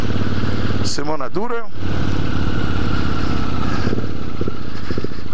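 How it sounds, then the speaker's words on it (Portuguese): An old motorcycle engine runs steadily at idle throughout, close and loud, with a brief revving burst early on, while someone talks over it. "Sim, amiguinhos, uma moto velha"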